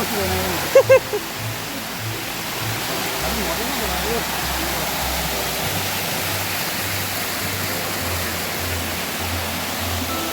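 Rupashi waterfall at Sitakunda pours out a loud, steady broadband roar that fills the whole stretch, close by and unbroken apart from a brief sharp knock near the start.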